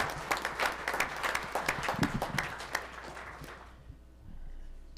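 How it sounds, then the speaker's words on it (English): An audience at a school board meeting breaks into brisk applause for an automotive teacher coming up to the front; the clapping is loud at first, then thins out and fades to quiet. "let's give him a round of applause as he comes up here"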